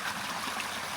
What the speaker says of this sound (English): This is the very tip top of the waterfall, the tall waterfall that you've seen earlier in the video.